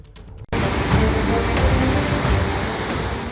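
Monsoon floodwater surges down a swollen river near Dehradun, Uttarakhand, after a cloudburst and heavy rain. It makes a loud, continuous roaring rush that starts abruptly after a brief quieter moment and holds steady.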